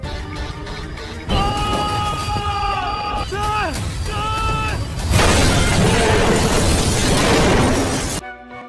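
A bomb strapped to a man's shirt explodes in a film scene: wavering tones give way to a sudden loud, roaring blast that churns with debris for about three seconds before cutting off.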